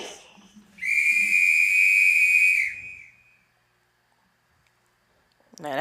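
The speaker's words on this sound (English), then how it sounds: "Whistle." A single loud, steady whistle blast held for about two seconds, clear and shrill, with faint voices and a brief tone before and after.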